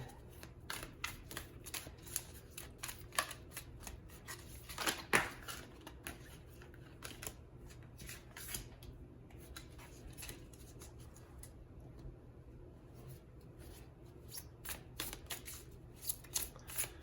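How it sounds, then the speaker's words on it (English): Tarot cards are shuffled repeatedly at close range, quick papery riffles and taps in irregular bursts, fairly quiet with brief pauses between. "So I'm going to be shuffling on camera today."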